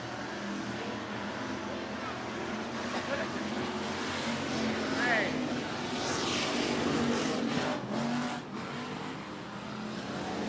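Race cars circle the 105 Speedway track in a continuous, dense engine drone, individual cars whining past now and then, while a voice talks over the din throughout.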